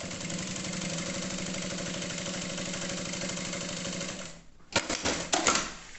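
A sewing machine stitches a cosmetic bag of clear crystal plastic with a waterproof lining, running a fast, even mechanical hum and rapid needle rhythm for about four seconds, then stopping and giving way to brief clattering handling sounds.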